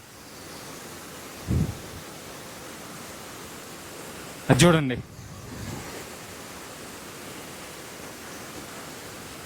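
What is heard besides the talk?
waterfall rushing water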